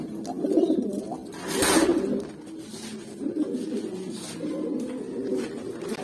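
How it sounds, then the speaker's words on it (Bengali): Pigeons, including a pair of deep blue-eyed birds sitting on eggs, coo in a loft. The low, throaty coos repeat close by in steady rolling phrases. "এক জোড়া ডিপ ব্লু চোখের কবুতর ডিমে বসে রয়েছে"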